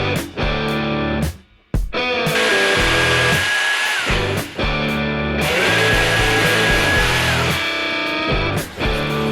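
Power tool cutting into a wooden dollhouse floor piece to make the stair opening between levels, a loud, steady whining buzz with brief drops and restarts, close by and without talk.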